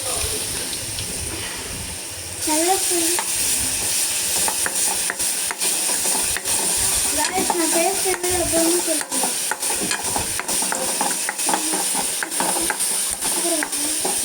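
Beaten ingredient being stirred into bonda batter with asafoetida beside a sizzling pan, a steady wet stirring and squelching over a constant hiss, with occasional soft taps and no talk.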